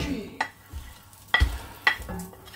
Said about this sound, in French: Donc nous mélangeons donc les échalotes et le poivron.